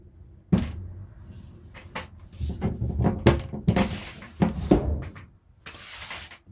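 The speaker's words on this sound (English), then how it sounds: "let me close this door here." A cabinet door in a shuttle bus camper knocks and clatters as it is swung shut, several wooden bumps and a final latch click up close.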